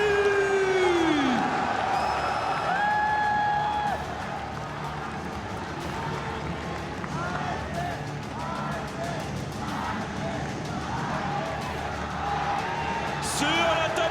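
A large esports crowd at the Mid-Season Invitational League of Legends semifinal cheers and applauds steadily throughout, with whoops rising above the roar and a few whistles near the start.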